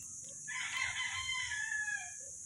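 A Mt. Banahaw rooster on a farm crows once, loud and close, a drawn-out call over quiet background; the sound is crowing rather than clucking.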